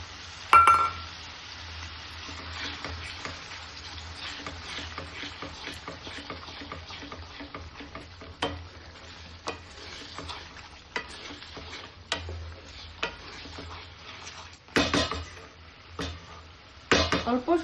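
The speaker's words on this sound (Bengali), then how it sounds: "সেই কাজু পেস্টটা দিয়ে দিচ্ছি। দিয়ে আমি 1 মিনিটের মতো ভেজে নেব" Cashew paste fries quietly in a pan while a spoon stirs it, giving soft scraping and occasional sharp clinks against the pan over a faint, steady sizzle.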